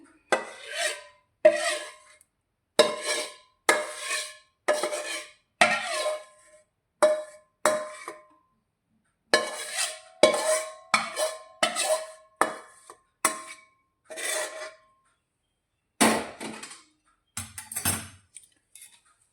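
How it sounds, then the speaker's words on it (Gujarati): A spoon works hot jaggery into an edible gum and coconut mixture, giving a run of distinct scraping and clinking strokes against a metal vessel at a steady rhythm, close and clear with short pauses between and no talking. "તો હવે ગોળ અને ગુંદ કોપરાના મિક્સરને આપણે આ રીતે મિક્સ કરવાનું છે"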